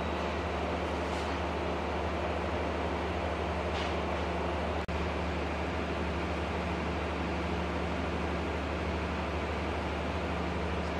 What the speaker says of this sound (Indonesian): KRL lokal sudah diberangkatkan dari Stasiun Cimahi